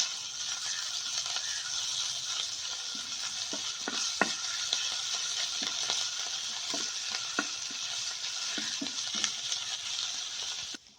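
Crushed ginger and green chillies fry in a pan with a steady, moderate sizzle and crackle, broken by a string of light spatula taps and scrapes through the middle.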